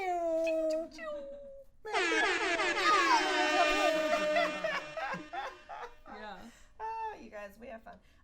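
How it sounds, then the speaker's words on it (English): A blaring air horn sound effect erupts between bursts of talk and laughter on a comedy talk show, a dense, wavering tone held for about three seconds before the voices return. "I think that deserves an air horn or something."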